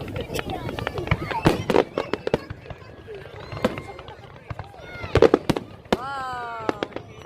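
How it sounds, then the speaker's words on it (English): Bonfire Night fireworks at Blackheath: sharp, irregular bangs and crackles, some close and loud, with whistling rockets rising near the end, while people talk nearby. "Are you looking at the fireworks?"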